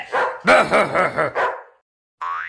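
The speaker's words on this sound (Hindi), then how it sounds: "आज वह कुत्ता सरे बाजार सेठ दास के धोती उतार देता" A cartoon dog in a Hindi comic-story scene barks and yips in a quick run of several loud, close, harmonic barks, then falls silent before a brief whine at the end.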